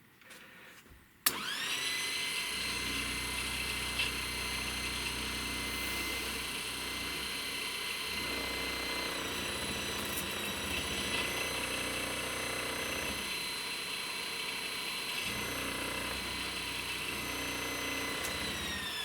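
A small electric motor runs at a steady, even whine with a faint rubbing hiss from its brush, starting abruptly after a brief quiet moment and continuing unchanged throughout.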